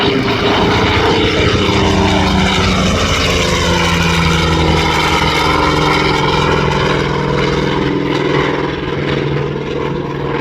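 A powerful Skyraider AD-4N propeller warbird roars overhead at an air show demo at MCAS Miramar, loud and continuous, its engine drone steady with a slowly shifting pitch throughout.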